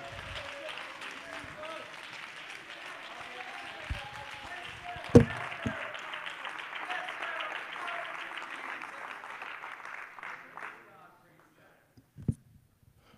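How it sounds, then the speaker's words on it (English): Church congregation at a Sunday service clapping their hands in praise, a dense, sustained round of applause from many people that carries on for several seconds and then stops abruptly, leaving near quiet with a few isolated knocks. "Would you clap your hands and give him praise?"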